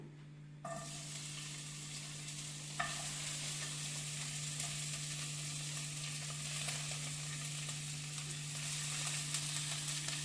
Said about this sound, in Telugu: ఆయిల్ హీట్ అయిపోయిందండి. నేను ఇంకా ఈ బ్రోకలీని వేసేస్తున్నాను.